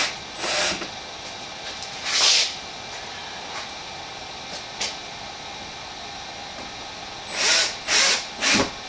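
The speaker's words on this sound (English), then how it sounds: "we'll continue putting the screws in all the way to the end" Power drill driving screws into a wall while hanging steel wall art, heard as several short whirring bursts, two early and three in quick succession at the end, over a steady room hiss.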